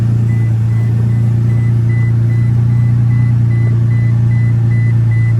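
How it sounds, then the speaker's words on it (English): A Toyota Tacoma pickup's engine runs in a loud, even idle hum, while a faint electronic chime beeps at regular intervals over it. "So now I start the truck up in order to get the fluid going so I can get the pressure back"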